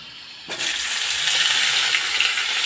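Cauliflower florets, washed in hot water, are dropped into hot oil left over from frying fish and sizzle loudly. The hiss starts abruptly and then holds as a steady, close, bright frying noise with no talking.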